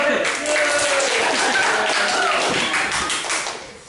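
Classroom children clap together in a burst of quick, scattered claps that fill the room, close and fairly loud, tapering off toward the end.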